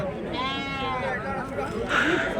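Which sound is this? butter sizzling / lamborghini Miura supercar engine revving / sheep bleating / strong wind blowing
sheep bleating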